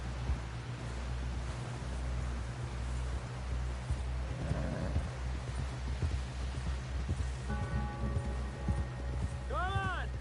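Horse hooves clip-clopping at a run in the Red Dead Redemption 2 prologue, rhythmic thuds under a steady low ambient rumble, with a brief musical swell near the end and voices talking.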